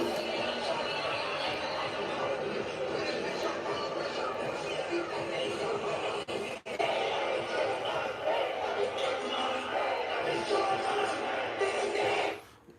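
Dense roar of a large crowd at a concert, heard through a played recording: constant loud chatter and cheering babble that stays steady throughout before cutting off at the end.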